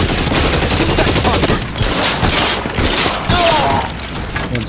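Rapid gunfire from the video game L.A. Noire, a dense fusillade of shots rattling continuously and loudly through the whole stretch, with bursts overlapping like machine-gun fire.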